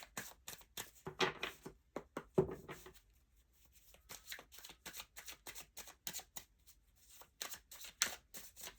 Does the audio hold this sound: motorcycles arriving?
no